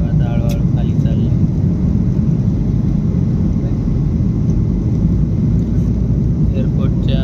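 Airplane cabin on a flight to Kerala descending toward landing, filled with a loud, steady low-frequency engine and air roar, with faint voices and a few small clicks over it.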